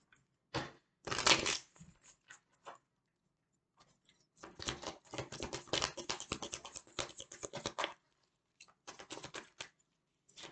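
Bursts of riffling and soft slapping of tarot cards being shuffled close by, coming in irregular clusters with quiet gaps between.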